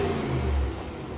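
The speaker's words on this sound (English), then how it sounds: "Range Rover SVR. But just listen to it." 2021 Range Rover Sport SVR with its 5.0 V8, a brief deep engine rev that swells, holds, then drops away, close and fairly loud.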